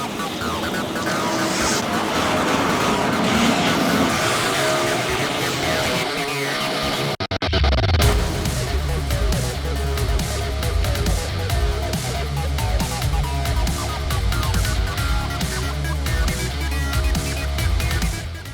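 A V10 BMW supercar is driven hard in Mexico, its engine roaring loud and close with revs rising and falling, and a brief cut partway through.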